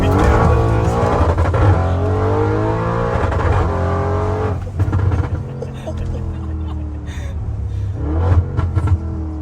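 An Audi RS6 engine revs hard up to the rev limiter, a loud sustained roar with the pitch climbing and bouncing off the limiter, easing briefly then rising again.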